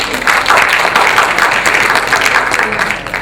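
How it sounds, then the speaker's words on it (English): Audience applause in a meeting hall, a steady wash of clapping hands, moderately loud and close, swelling and easing slightly over about three seconds. "I think we should give Joe another round of applause"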